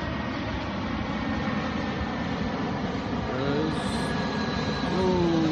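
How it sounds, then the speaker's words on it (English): An airplane near a South Boston airport gives a loud, steady engine roar that swells toward the end; a person briefly calls out over it. "There, here comes this plane."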